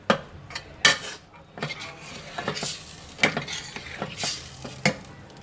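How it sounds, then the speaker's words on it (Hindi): Tomato masala frying in a pan for chicken macaroni, with a gentle sizzle broken by irregular scrapes and clinks of a spoon against the pan, close and moderately loud. "अब इसको थोड़ी सी भुनाई करेंगे।"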